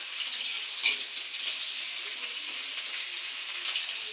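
Chopped onion and whole cumin sizzle steadily in hot oil in a pan, a continuous bright crackle with a sharp tap of a utensil near the start, close and without speech.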